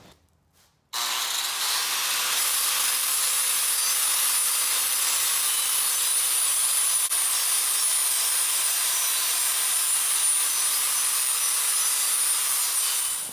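An angle grinder works metal for an off-road mower's custom rear utility rack, a loud, continuous abrasive hiss and whine that starts abruptly after a second of quiet and holds steady, close and without talk.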